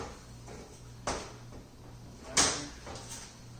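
Thumb screw latch on the door of a Camp Chef BBQ grill box for a Big Gas Grill 3X being worked open, giving two sharp metallic clacks about a second apart, close and fairly quiet with no talk.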